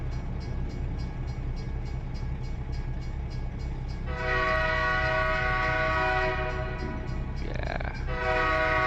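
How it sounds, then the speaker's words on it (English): A train passes a crossing in a truck driving simulation with a Kenworth W900, its horn sounding loud and sustained in long blasts over steady rumbling rail noise, with the engine drone continuing underneath. "Train crossing."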